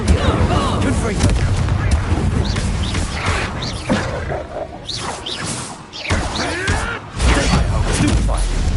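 Spells Incendio and Confringo cast in the Hogwarts Legacy game land as loud, dense magical bursts and booming impacts, one after another over a constant combat din, with a few brief pauses between volleys.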